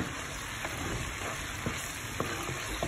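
Whole spices — bay leaves, cinnamon pieces and cardamom pods — frying in hot oil for a chicken capsicum curry, giving a steady close sizzle with small crackles and pops and no voices.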